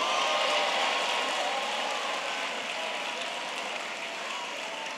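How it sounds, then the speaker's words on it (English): A church congregation of art students keeps up sustained applause, a continuous hiss-like roar of many clapping hands, steady and fairly loud, slowly fading a little. "Are art students clapping?"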